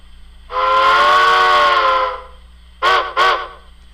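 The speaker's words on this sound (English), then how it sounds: "out of the package you're going to hear this whistle" A loud steam locomotive whistle from a model train sound decoder at its default setting sounds one long sustained blast, followed by two short sharp toots, close and clear against a quiet background.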